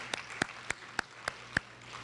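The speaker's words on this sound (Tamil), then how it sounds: "மிக அருமையாக வரவேற்புரை வழங்கின திரு மோனி அவர்களுக்கு மறுபடியும் கரகோஷத்தை எழுப்புங்கள்." Several distinct hand claps, roughly evenly spaced and fairly close, sound after a welcome speech at a Tamil cultural event, sparse and rhythmic rather than a full crowd ovation.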